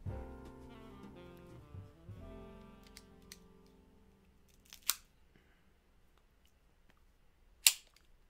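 A cigar cutter snipping a Partagas Anniversario 2015 robusto, two quick sharp clicks a few seconds apart after a fading low hum, close in an otherwise quiet room.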